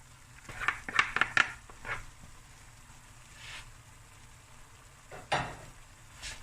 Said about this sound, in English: Now it's just a matter of stir frying, mixing it through